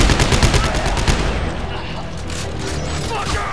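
Gunfire in the co-op PC video game Dead Space 3 comes as rapid bursts of shots, loudest at the start and then settling into a dense, rumbling stream of game sound.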